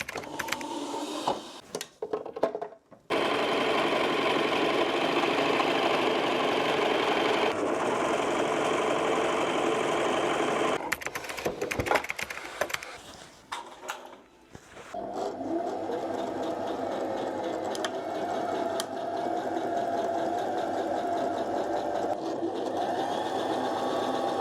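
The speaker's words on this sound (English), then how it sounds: "I'm gonna overlock the edges of my pockets first" An overlocker sewing machine finishes the edges of dress pocket fabric with a steady, fast whirring hum that starts and stops several times, broken by short pauses and clicks, with no talking.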